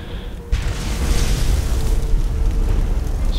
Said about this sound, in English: Surprised that the fire blast there didn't kill the Charis